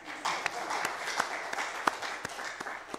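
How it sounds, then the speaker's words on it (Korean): A church congregation claps briefly, a soft, somewhat sparse patter of hands with a few distinct sharper claps, moderately distant and fairly quiet. "박수 한번 하세요."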